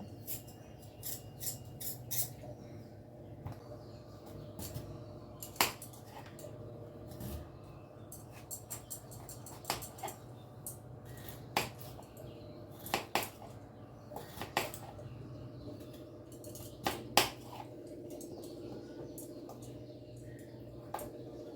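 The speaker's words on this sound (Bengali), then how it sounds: "খুব পাতলা পাতলা খোসা ভালো করে চেঁচে নিয়ে এবার আলুগুলোকে পাতলা পাতলা করে কেটে নেব" A knife slices peeled winter potatoes thinly, producing faint, irregular clicks and taps against a board, close and quiet with no talking.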